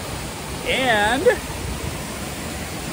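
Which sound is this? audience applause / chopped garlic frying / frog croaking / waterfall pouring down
waterfall pouring down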